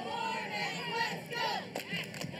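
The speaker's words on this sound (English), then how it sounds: "Right behind them doing a cheer is the Big Lake Youth Football Association." A youth football association group shouts a chant together while marching in a small-town Spud Fest parade, the many young voices rising and falling in rhythmic bursts close by, with a few thumps near the end.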